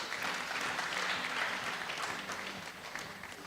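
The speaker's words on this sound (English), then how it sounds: "Let's give him a better clap until he arrives on stage." A congress audience at a county procurement event claps steadily as a doctor walks up to the stage, a dense, sustained patter of many hands that eases slightly toward the end.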